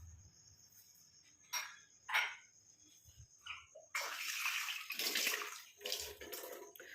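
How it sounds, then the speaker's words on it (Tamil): Water pours and splashes into a homemade herbal hair dye mixture in a sustained gush after a few quieter stirring sounds, with a faint high whine in the background. "இப்போ நம்ம தண்ணி ஆட் பண்ணிக்கலாம்"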